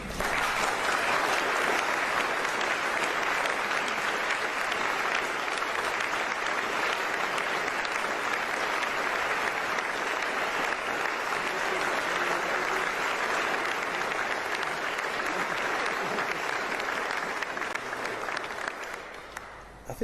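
Sustained, dense audience applause following a political speech on growth and ambition for towns in the Manchester region, loud and steady for about twenty seconds, many hands clapping together before it tapers slightly at the end.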